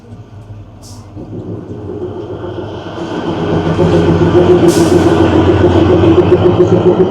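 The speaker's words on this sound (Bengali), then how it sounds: "এখানে ট্রেন ক্রস করছে, এই যে ক্রসিং হচ্ছে তারা দেবীতে" A Kalka-Shimla toy train crosses at Taradevi station in the rain, its rumble swelling from quiet into a loud, steady roar of wheels and engine close by.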